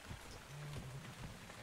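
Rain falls in the video game ARK: Survival Evolved as a soft, steady hiss with faint patter, low in level, with a brief low hum partway through.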